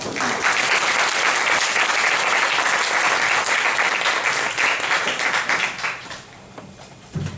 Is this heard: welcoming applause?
yes